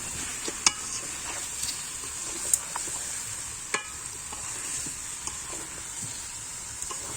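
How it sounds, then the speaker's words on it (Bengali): Boiled taro being stirred into a beef curry in a pot, giving a soft continuous sizzle and bubbling with occasional sharp ladle knocks against the pot, close and moderately quiet. "এই যে কচু ঢাইলা দিছি, এখন ভালো করে নাড়া ঝুল দিয়ে দিব"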